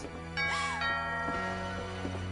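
A two-tone ding-dong doorbell chime rings once inside a house in the video game What Remains of Edith Finch, clear and close, with soft ringing tones fading over a quiet, humming background.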